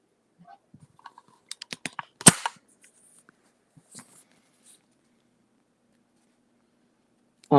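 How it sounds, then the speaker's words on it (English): Scattered clicks of typing on a computer keyboard, a quick burst of sharp taps followed by one loud clack and a few sparse keystrokes in an otherwise quiet room. "I'm not looking though because I am typing."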